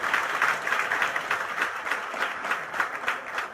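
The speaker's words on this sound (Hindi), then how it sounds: "जरा एक बार जोरदार तालियां इन सभी हमारे युवा साथियों के लिए" Audience at a tribal youth exchange programme clapping for young participants, a steady, fairly loud wash of many hands with slight rhythmic swells and no talking.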